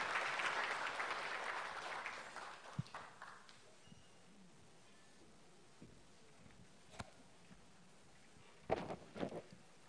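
Conference audience applause swells at the start as a dense, soft wash of claps, then dies away over a few seconds, leaving a quiet hall with scattered faint knocks and rustles.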